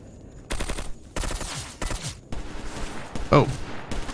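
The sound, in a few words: gunfire in the video game Stalker Anomaly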